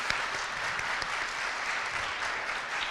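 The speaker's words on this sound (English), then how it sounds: "Everyone, round of applause." Steady, dense applause from a crowd at a Take Back the Night community event in Ann Arbor, honoring Congresswoman Dingell, sustained and even throughout without breaks.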